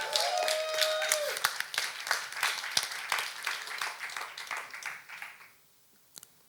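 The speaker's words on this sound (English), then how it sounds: "let's give a huge round of applause" Audience applause welcoming a high school student author and speechwriter on stage at a generational synergy event, dense clapping that thins out and stops, leaving near silence with a couple of final claps.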